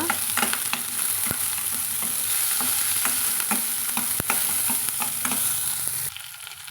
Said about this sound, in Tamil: இப்போ நம்ம இந்த வெட்டி வச்சுக்கிற சின்ன வெங்காயம் பச்சை மிளகாயும் வந்து நம்ம சேர்த்துக்கலாங்க இதில் சேர்த்துட்டு கலந்து விட்டுக்கலாங்க